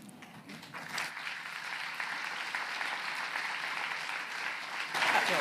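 A church annual conference audience applauds during a petition debate: sustained, dense clapping from a large crowd that swells slightly toward the end, with no speech over it.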